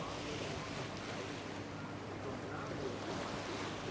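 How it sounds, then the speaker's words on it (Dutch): Steady wind roaring over open water during a skûtsje sailing race near Woudsend, a constant broadband rush with low rumble and no clear voices. "Het lijkt dat er een beetje meer wind komt."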